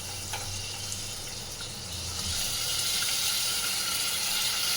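Potatoes, onion and tomato hitting hot oil together, a broad sizzle that swells louder halfway through and then holds as a dense, even hiss close by.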